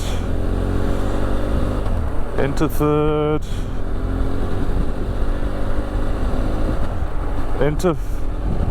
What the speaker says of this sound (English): First gear, into second, into third,